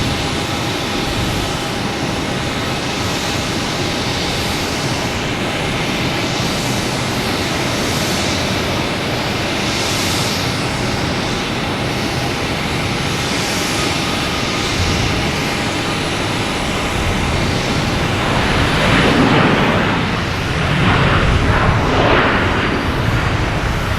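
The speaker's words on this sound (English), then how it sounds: "We have a Cape Air landing on 4 right and a American Airlines landing on 4 left" Loud, steady roar of jet engines from planes landing on the runways at Boston Logan Airport, rising toward the end as a big aircraft passes close by.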